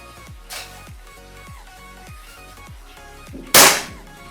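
After a faint thump, one loud, crisp shot from a Bocap Predator 500cc PCP air rifle cracks close by, its sharp report fading quickly over soft background music.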